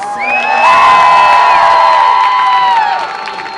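A loud esports crowd at MLG Providence finals cheers and whoops together, with high sustained shouts rising and then fading near the end.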